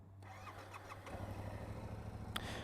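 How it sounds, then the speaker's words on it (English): A Yamaha R7 motorcycle engine starting for the first time, the starter catching and settling into a steady low idle rumble that continues evenly, close by, with no talking. "you have started your motorcycle for the first time"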